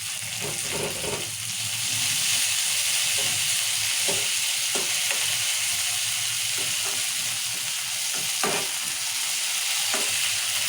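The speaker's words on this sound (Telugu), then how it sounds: "ఇప్పుడు టమాటా తీసుకున్నాం టమాటా కూడా మంచిగా వేయించుకోవాలి" Tomatoes frying in oil with curry leaves and coriander for a bottle gourd curry, a loud steady sizzle with frequent spoon clinks and stirring scrapes against the pan.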